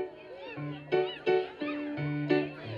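Voices imitate a cat with a string of drawn-out, wavering meows, several overlapping in quick succession, close and fairly loud.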